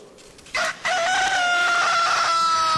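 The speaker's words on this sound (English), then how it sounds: "and a rooster crowed" A rooster crows once, loud and close, with a long drawn-out call that holds steady to the end, after a brief softer lead-in.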